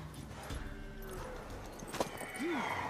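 Horse hooves clip-clopping for a mare in The Witcher 3, with a brief snort or whinny near the end over game ambience and background music.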